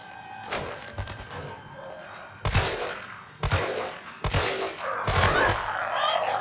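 Shotgun blasts from the video game Resident Evil 3: about five sharp, loud shots spaced irregularly, each with a short ringing tail over a quieter game background.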